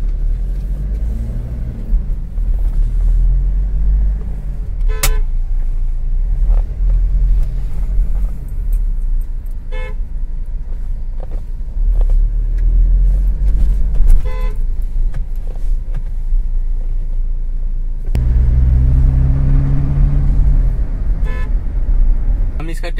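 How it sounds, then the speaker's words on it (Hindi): A Toyota Innova Crysta on a test drive after a brake service, with a steady low engine rumble and road noise, a few short horn toots, and someone talking over the drive. "तो इसके लिए हम थोड़ा सा टेस्ट ड्राइव ले लेंगे"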